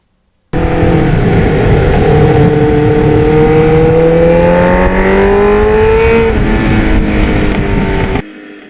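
A 1989 Kawasaki Ninja 750R motorcycle engine drones loudly and steadily while riding, its pitch rising gradually as it accelerates before cutting off abruptly.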